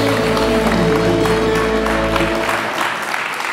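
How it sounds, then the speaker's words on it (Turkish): A television studio audience claps for Elif on a Turkish dating show, steady applause holding over a low musical hum before thinning out near the end. "Alkışlayalım Elif'i."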